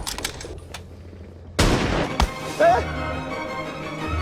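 Gunfire in a D-Day sniper meme: a quiet stretch gives way to a loud burst of shots and a blast-like boom, followed by another sharp crack and a louder impact, with a steady background bed continuing under it.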